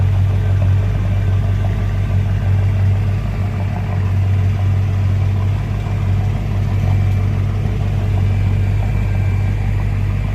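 Mercedes CL63 AMG engine running at a steady, loud, deep rumbling idle close by, holding constant for the whole stretch with no speech.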